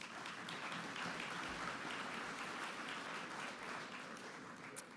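A convention audience applauds steadily, a dense wash of many hands clapping at moderate distance, sustained without a break and without voices over it.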